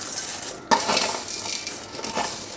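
Sev being stirred into hot sugar syrup in a metal pan, close scraping and clinking of a spoon against the pan with a sharp knock, then softer uneven stirring scrapes and light rustle, no talking.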